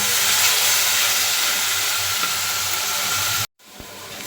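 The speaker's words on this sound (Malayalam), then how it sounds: "എണ്ണ ചൂടായി വരുമ്പോൾ നമ്മൾ നേരത്തെ ചതച്ചെടുത്ത ആ സ്പെഷ്യൽ മിക്സ് അങ്ങ് ചേർത്ത് കൊടുക്കുക" Crushed spice mix hitting hot oil for a fish curry, a loud steady hissing sizzle that cuts off abruptly near the end, followed by a brief quieter tail.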